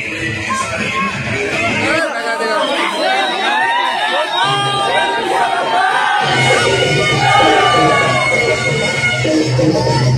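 A dense crowd at a Dahi Handi pot-breaking celebration for Krishna Janmashtami in Darwha roars and shouts continuously, with high cheering voices and babble filling the space at close range.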